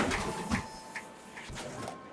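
Sliding sci-fi doors cycling open one after another in Starfield, heard as faint mechanical whirring and soft clunks at a steady pace over a low hum.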